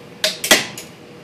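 A few sharp cracks snap in quick succession, brittle and close, as a model bridge fails under about 240 pounds of load, then fade into near silence.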